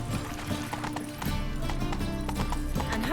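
Horse hooves galloping in The Witcher 3: Wild Hunt, a fast, steady clip-clop rhythm of hoofbeats that runs throughout over game ambience.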